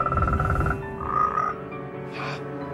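A toad croaks a few times in loud, close, throaty bursts with short gaps between them, with no other sound.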